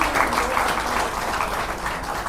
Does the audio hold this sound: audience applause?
yes